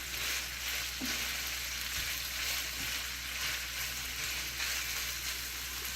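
Sirloin steak frying in Kerrygold butter in a pan, a steady close sizzle and spatter with a few soft clinks and stirring touches, constant and moderately loud, no speech over it.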